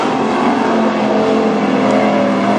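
Street stock race cars roar loudly on the final lap of a heat race at Granite City Speedway, a continuous, dense engine drone with no break.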